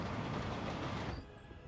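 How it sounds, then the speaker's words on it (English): A train runs on rails in the Workers & Resources: Soviet Republic video game, a faint rumbling roll that drops abruptly to a quieter hum after about a second. "we're going to follow the train"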